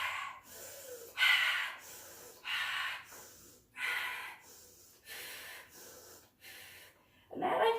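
Loud, deliberate breathing during a yoga session, with forceful breaths through the nose alternating between inhales and exhales in a steady rhythm, close and clear, with no talking.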